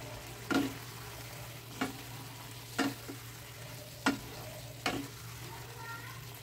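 A curd and spice mix with water sizzling in a frying pan for a pointed gourd curry, a faint steady hiss broken by five spaced stirring strokes.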